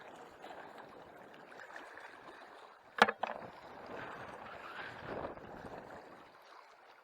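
Faint wind and water noise from a small boat on Lake Meeker, with a sharp knock or clunk around the middle, then a soft continuing wash.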